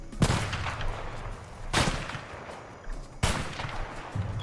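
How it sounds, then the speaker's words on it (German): Enemy gunfire in the jungle in the video game A Way Out: three separate loud bursts of shots spaced about a second and a half apart, each cracking sharply and then decaying into a rumbling tail. "Die schießen auch wie die Sturmtruppler."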